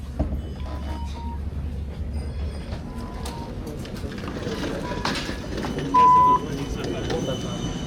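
Low rumbling of a tram in motion in Amsterdam with rattling and a brief tone, while people talk quietly nearby.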